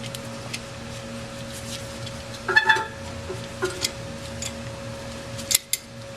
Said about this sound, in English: I got the C-clamp on here. It's going to push the caliper back in nice and even.